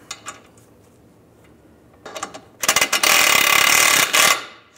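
A ratchet wrench snugging down a bolt on the front suspension link of a Volkswagen Beetle, a few scattered clicks and then a loud, fast, continuous ratcheting burst up close, stopping abruptly.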